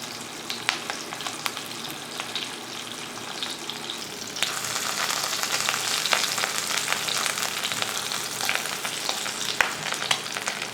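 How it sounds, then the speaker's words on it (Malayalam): Dried kurichi fish fries in a little oil over a low flame, giving a steady, close crackling sizzle that grows louder and denser about halfway through and continues without talk. "ചെറിയ തീയിൽ വറുത്തെടുത്താൽ മതി കേട്ടോ"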